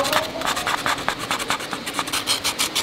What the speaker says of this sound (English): spent about 20 minutes cleaning these guys with sandpaper